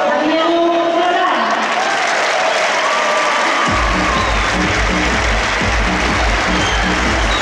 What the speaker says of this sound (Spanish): Les damos un fortísimo aplauso a Diego Solá.